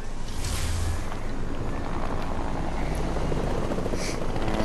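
A video game helicopter gives off a steady, loud rotor and engine roar that continues throughout with no talking.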